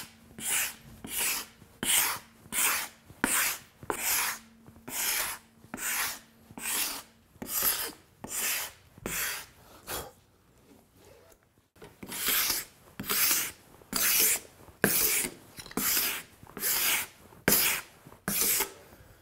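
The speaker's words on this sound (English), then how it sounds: "Now I just used a little scraper to scrape off some of the texture that the planer leaves" A small hand scraper is drawn repeatedly across wood to remove planer texture, giving steady rhythmic rasping strokes, close and distinct, with a brief pause midway before the strokes resume.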